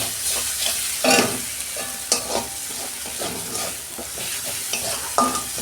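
A spoon stirs a bitter gourd masala in a hot pan, with scraping strokes every second or so over a soft background sizzle and no speech.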